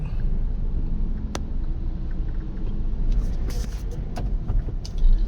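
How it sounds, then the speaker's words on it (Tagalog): Heavy stop-and-go traffic on Commonwealth Avenue in Quezon City by the Sandiganbayan: a continuous low rumble of idling and crawling vehicles, a sharp tick early on and a cluster of light rattles and hisses near the end. "Buhol-buhol ang traffic."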